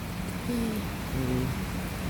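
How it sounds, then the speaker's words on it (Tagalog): Heavy rain pours down outdoors, a steady dense hiss close by with a faint low hum underneath, no voices. "Ayun, inulan kami. Ang lakas ng ulan."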